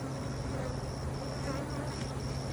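Honey bees hum steadily at a hive, a dense, continuous buzz of many insects close by with a faint higher whine drifting in and out.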